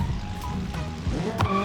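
A car drifting in BeamNG Drive, steady engine drone with tonal tire squeal that rises and sweeps near the end, accompanied by a couple of brief knocks.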